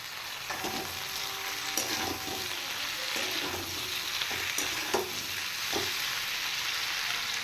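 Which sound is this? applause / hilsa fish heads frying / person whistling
hilsa fish heads frying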